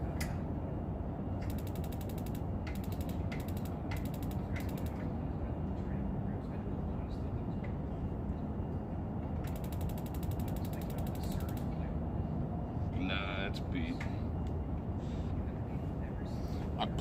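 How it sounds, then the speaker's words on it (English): Repeated sharp igniter clicks in irregular bursts from an attempt to light a pilot flame that fails to catch, close and fairly faint over a steady background hum. "I pushed it in to fire the pilot and everything. It's just, it ain't happening."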